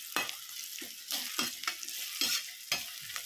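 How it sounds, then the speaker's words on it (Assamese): Onion frying in a pan with a steady broadband sizzle, punctuated by several sharp scraping stir strokes at irregular intervals, close and moderately loud with no talking. "এতিয়া পিঁয়াজটো ভাজি লওঁ"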